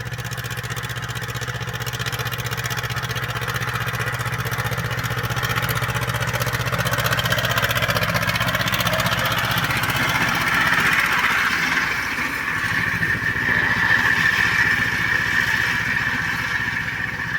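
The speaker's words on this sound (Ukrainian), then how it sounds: "Судя по його звуку, він як наче застряв." A steady, rumbling YuMZ 8280 tractor engine runs continuously and loudly up close while baling hay, sounding stuck, with a droning, strained tone that stays level throughout.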